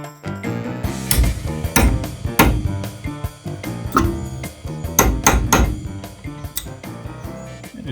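Hammer punching out a broken car steering knuckle part, a rapid series of loud, close metallic blows with ringing clinks, irregular but steady, without talk.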